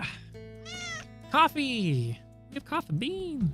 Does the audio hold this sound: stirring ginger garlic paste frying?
no